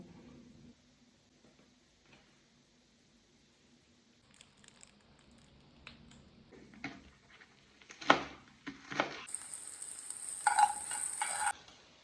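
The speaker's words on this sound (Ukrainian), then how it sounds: "Зараз ми нашу другу філешку і розриваємо її на волокна" Cooked chicken fillet torn by hand into fibres for a pomegranate-bracelet salad: quiet at first, then soft squishy handling and short close crackly bursts that grow busier toward the end.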